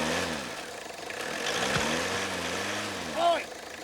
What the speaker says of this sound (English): The engine looks like she's running smooth.